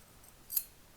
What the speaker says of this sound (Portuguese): Daí eu posso cortar a linha